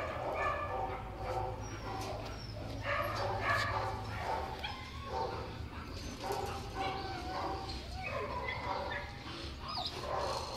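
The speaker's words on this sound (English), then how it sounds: "Good doggy." A dog yips and whimpers excitedly in short bursts close by while people talk warmly over it.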